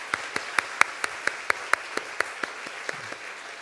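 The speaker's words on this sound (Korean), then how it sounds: "우리가 박수로 환영하도록 하겠습니다." Sparse, evenly spaced handclaps from a church congregation welcoming new members at a Sunday Christmas service, a dozen or so distinct claps at a steady moderate rhythm, fairly quiet and without talk.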